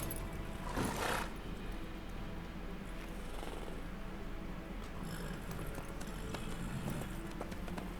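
Horse hooves clip-clop steadily at a walking pace on a road in The Witcher 3, a soft rhythmic clatter running under faint ambient noise and low game background.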